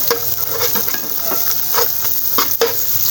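Steady sizzling of onions with garlic-ginger paste frying in a pan, with occasional scraping stirs and clinks, close and continuous.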